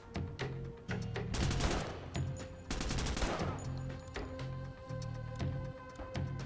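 Enemy gunfire in the Door Kickers 2 tactical video game, repeated bursts of rapid automatic shots at moderate volume separated by short pauses, over a steady low background hum.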